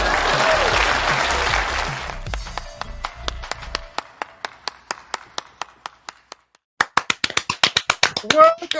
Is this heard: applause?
yes